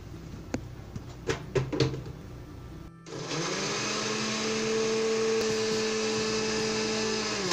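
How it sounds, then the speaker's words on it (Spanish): Kitchen blender grinding garlic cloves with a small cup of water and salt, starting after a few knocks and clatters, then running loud and steady with a constant motor whine for several seconds. "Voy a poner los ajos en la licuadora. Los voy a moler."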